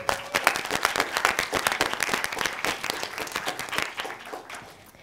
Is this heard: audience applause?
yes